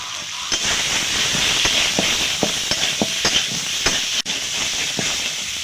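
Spices with salt and turmeric sautéing in a pan: a loud continuous hiss of frying with repeated spatula scrapes and taps, close up and without talk.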